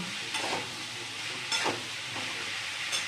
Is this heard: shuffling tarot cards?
no